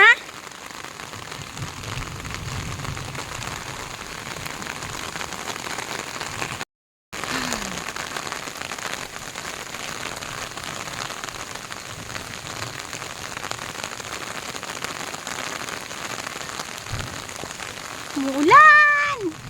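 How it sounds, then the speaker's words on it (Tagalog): Rain falls steadily on surfaces at the Neihu lake shore, a continuous close patter with a brief dropout, and a voice speaks faintly near the end. "Umuulan! It's raining man!"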